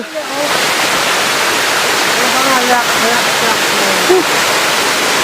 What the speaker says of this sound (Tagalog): Andito na tayo sa Agat or Pinsal Falls.